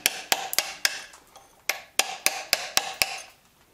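Hammer strikes a chisel against a stone sculpture, a run of about a dozen sharp, close metallic taps in an uneven rhythm, each ringing briefly before the next blow, with no talking.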